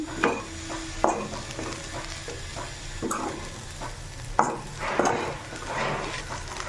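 Eggplant fry with coconut powder stirred in a pan over low flame, Rayalaseema style: scraping spoon strokes and clinks against the pan over a soft sizzle, several sharp knocks, no voices.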